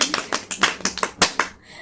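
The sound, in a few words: clapping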